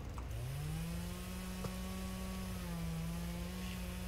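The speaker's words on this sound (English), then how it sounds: "I'm surprised they actually made the chainsaw work." Rescue chainsaw running steadily in the Flashing Lights video game, a continuous buzzing engine drone with slight pitch wavering, loud and close, with no talking.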